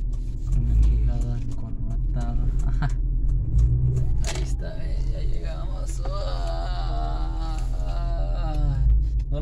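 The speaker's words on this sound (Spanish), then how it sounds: "Porque ando con una troca larga." A long pickup truck driving, with a constant low engine rumble and road noise throughout and voice-like sounds rising over it.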